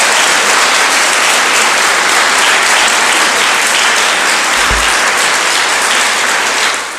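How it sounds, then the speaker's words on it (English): Loud, sustained applause from a large crowd at a debate, dense and steady throughout before tapering slightly at the end. "But our applause for them both."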